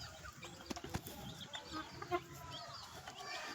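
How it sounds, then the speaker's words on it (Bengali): Chickens, a hen and a rooster kept at home, cluck and squawk close by in short irregular bursts, with faint talking in the background. "আর দেখো একটা মুরগি, এটা মুরগা"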